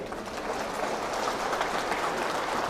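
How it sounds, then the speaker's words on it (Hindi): A large audience claps hard and steadily throughout, a dense, even wash of applause with no voices rising above it. "और एक बार जोरदार तालियां बजाइए।"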